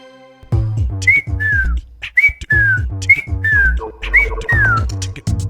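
A woman whistles a run of short falling notes in close succession, loud and near, over a steady low tonal backdrop.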